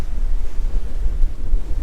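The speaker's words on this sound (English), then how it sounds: "excuse the wind, it is very windy out here" Heavy wind buffets the microphone outdoors at Moons Crossing free campsite in a constant low rumble that gusts and swells, with no other distinct sounds.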